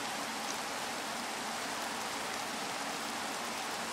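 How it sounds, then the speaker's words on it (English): Rain in Minecraft, a steady, even wash of hissing rainfall that holds at the same moderate level throughout, with no talk over it. "Oh, I hate the rain. Hold on, I'm gonna turn off the rain."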